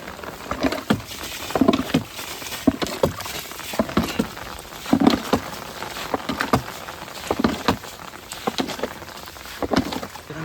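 Rain begins falling outdoors beside a drained stream pool where fish were caught, with scattered patter and soft drops tapping surfaces close by, uneven and irregular, with no talk over it.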